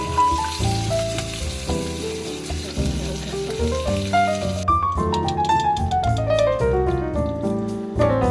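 Lamb chops fry in a pan with a steady, soft sizzle for the first half, partly masked by louder melodic music playing throughout.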